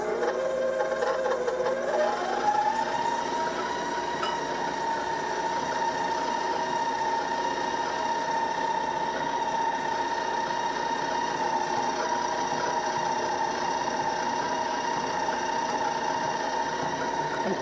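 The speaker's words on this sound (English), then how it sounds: "put it in the mixer along with the sugar. Now I'm going to beat this up until it gets nicely blended" An electric mixer whirs steadily while beating margarine and sugar, its motor tone rising in pitch at the start and then holding a constant, close hum.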